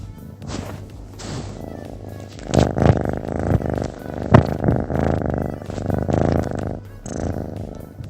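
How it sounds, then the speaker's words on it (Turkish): A cat purrs close up in a steady rhythmic rumble, with a few soft thumps and bumps along the way and nobody speaking. "Sayın seyirciler rahatladan kedi mırıltısını dinliyoruz şu an."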